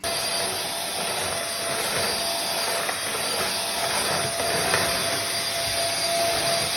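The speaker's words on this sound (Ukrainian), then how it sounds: "Сьогодні в мене план це треба знову пилососити." A household vacuum cleaner runs steadily indoors in a living room, giving a loud, constant broadband whine and hiss that holds without break for the whole stretch, with no talking.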